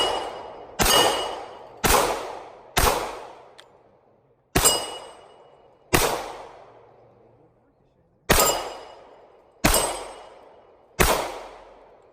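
Nine loud, sharp pistol shots from a Smith & Wesson M&P 45c fired with a 10-round magazine, spaced irregularly about one to two seconds apart, each followed by a short decaying echo, with no talking.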